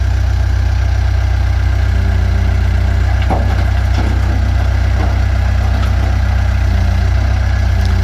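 A bulldozer engine idles steadily in neutral with the parking brake set, a continuous low rumble with a few faint clanks and knocks over the top, heard alone without talk.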